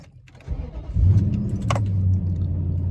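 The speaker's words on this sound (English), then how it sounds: "we're gonna start the truck, cycle the gear shift through from park down to drive" A Nissan truck's engine cranks and catches, then settles into a low steady idle close by, after a brief rustle and jingle of keys at the start.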